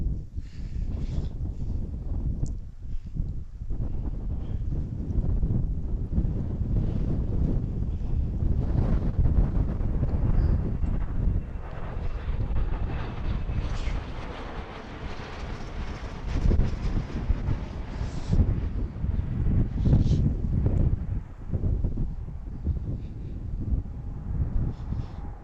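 Wind buffets a microphone outdoors at an airfield viewing spot, a constant loud rumbling roar with gusty surges and no talk throughout.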